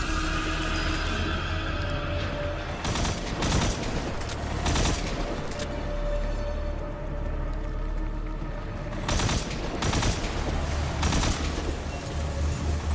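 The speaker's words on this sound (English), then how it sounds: "Notice I'm just backing up, firing and backing up." Gunfire in Destiny 2: Warmind during a mission against thrall, with clusters of sharp shots at irregular intervals over a steady low droning ambience, moderately loud and without talk.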